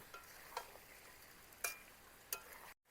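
Chicken, spices and fried potatoes are sautéed in a pan with a soft steady sizzle, broken by three or four sharp spatula scrapes and taps against the pan. The sound is close and there is no talk.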